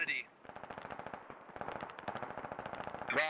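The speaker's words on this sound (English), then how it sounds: "We're taking very accurate fire." Rapid automatic gunfire in the video game Squad, sustained bursts of rattling shots at mid distance, with short gaps between strings.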